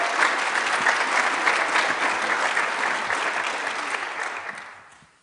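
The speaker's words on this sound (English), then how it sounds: "give them a big round of applause" Audience applause at a 1 Million Cups Kansas City one-year anniversary event, a dense steady clapping that holds strong for about four seconds and then fades out at the end.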